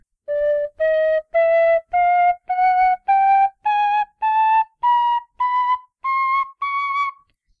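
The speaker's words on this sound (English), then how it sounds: "It really is my kind of whistle. It's not overly loud." A carbon fiber tin whistle plays twelve separate notes stepping steadily upward in pitch, each held about half a second with short gaps, clear and close.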